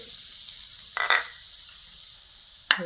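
Grated coconut roasts in ghee in a pan, giving a soft, quiet sizzle with two brief louder bursts of frying crackle as it is stirred.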